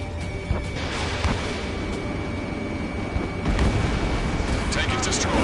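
A tank blown apart in the Ace Combat 7 video game: a dense, rumbling explosion roar that swells midway and carries on under busy game noise.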